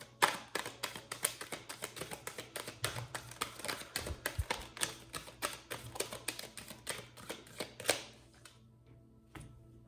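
Oracle cards shuffled by hand, a rapid run of crisp close clicks and riffling taps that goes on for about eight seconds before stopping, followed by near silence with one last soft tap.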